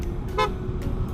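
An aftermarket horn fitted to a Yamaha XMAX 250 scooter gives a short tonal honk over a steady low rumble, a single close, brief blast.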